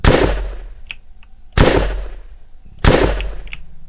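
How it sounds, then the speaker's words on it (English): Three loud, evenly spaced gunshot blasts in a shooter video game, each a sharp booming crack with a quick decaying tail, about one and a quarter seconds apart, with faint small clicks in between. "I need to shoot those."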